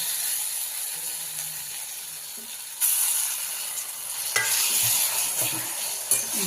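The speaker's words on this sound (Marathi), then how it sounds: "पूर्ण मसाला हे वांग्याला लागला लागला पाहिजे असं आपण चांगलं परतून घेऊया" Roasted eggplant with spice mixture being stir-fried in a pan for bharit, a constant bright sizzling hiss with a few utensil scrapes and knocks, close by and without speech.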